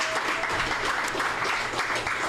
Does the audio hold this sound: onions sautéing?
no